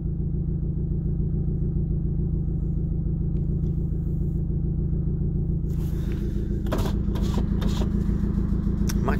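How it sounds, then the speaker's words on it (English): Loud car engine rumbling steadily while driving, a deep continuous drone from inside the car with some faint background noise near the end. "My car is so loud."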